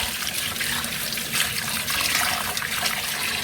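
Running water rinsing fish in a sink, a continuous close splashing stream with gentle sloshing throughout.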